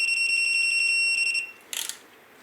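A torque wrench tightens the main cap nuts on the engine of an Austin Mini GT-Four, a turbocharged 4WD Mini, toward 60 foot-pounds in three steps. A steady run of loud, even, high electronic beeps stops, then a single short, sharp click-burst sounds alone.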